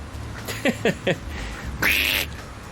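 A few short, nasal quacks from ducks near a backyard pool, three quick calls followed by a longer, drawn-out squawk, fairly close over quiet background noise.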